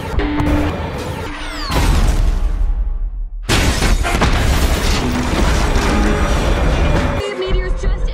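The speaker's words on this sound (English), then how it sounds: "Meteors just impacted." A meteor impact explosion in a sci-fi invasion movie trailer, heard as loud booming crashes and shattering debris with heavy low rumble, broken by a short near-silent pause before another blast.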